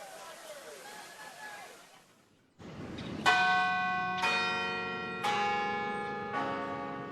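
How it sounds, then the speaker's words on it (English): The bells of the 120-foot campanile at the University of Kansas ring out in four loud, evenly spaced strikes, each tone ringing on and decaying, after a stretch of softer ambient sound. "the bells of the 120-foot-high campanile keep time for the University of Kansas"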